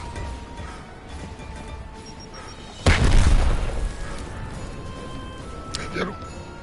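A frag grenade detonates in Gears of War: one loud, close boom with a rumbling tail, cutting through steady game ambience with voices around it.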